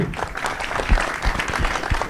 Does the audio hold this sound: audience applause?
yes